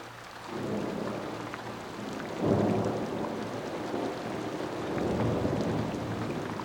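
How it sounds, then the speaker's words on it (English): Torrential desert downpour pounding on sand, a dense steady roar of heavy rain with a deep thunder rumble swelling midway and another late, loud and close throughout. "It's a truly torrential downpour."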